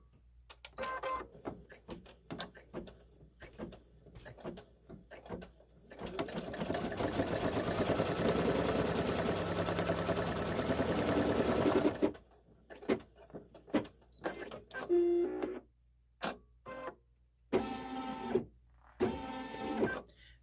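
A sewing machine runs a placement stitch on a SweetPea haunted house quilt block, humming steadily for about six seconds. Short handling clicks and rustles come before and after the run.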